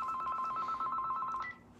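A mobile phone rings with an incoming call, a rapid pulsing electronic tone repeating steadily before it cuts off, fairly loud and close with no talking over it.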